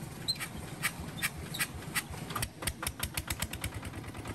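A Japanese motor-block walking tractor engine runs near at a steady idle-like chug, its rapid regular putter continuing throughout with no talking.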